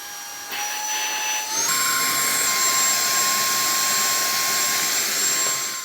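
A DISCOZ mini cordless handheld vacuum cleaner whirs steadily with a high motor whine, stepping up in pitch and power partway through, then holding a loud, even drone.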